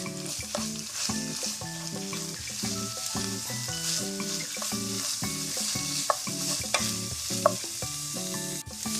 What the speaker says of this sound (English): You just want to mix it until it's well combined.